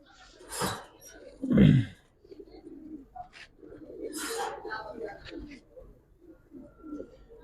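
Pigeons of a red Giribaz-type breed in a pigeon market give low cooing calls with a brief cough-like burst, near and fairly soft, mixed with background chatter and voices of people talking.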